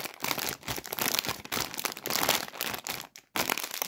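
A snack bag of chili-lime Lolo Puffs crinkles and crackles loudly up close as it is handled and opened, in a busy, irregular stream of rustling with one brief pause.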